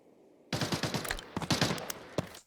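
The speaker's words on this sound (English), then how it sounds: "I heard gunshots at 1 minute." Gunfire in the shooter video game Armory erupts after a quiet moment, a rapid burst of sharp shots followed by a second volley, with a few scattered louder cracks trailing off.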